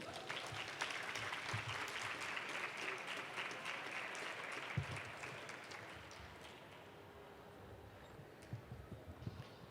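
An audience at a Constitution Day event applauds steadily, a dense wash of clapping that holds for most of ten seconds and then tapers a little, heard from some distance in a hall.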